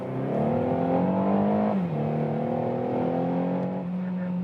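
A 2016 Renault Megane GT in sport mode accelerates from 40 to 80, its engine note climbing steadily and then dropping briefly at a dual-clutch gearshift before it rises again, heard from inside the car.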